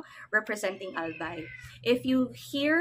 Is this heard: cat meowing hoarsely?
yes